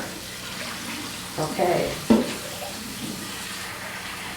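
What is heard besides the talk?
warm tap water rinsing cast iron skillet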